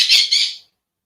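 A pet bird lets out two sharp, loud squawks in quick succession, close by, then the sound cuts off into silence.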